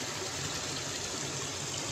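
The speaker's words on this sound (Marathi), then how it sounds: "हे सर्व शेतातलं पाणी बघा इकडे कसं जात आहे" Rainwater from an unseasonal downpour flows steadily across a flooded farm field, a constant, dense rushing wash with no breaks.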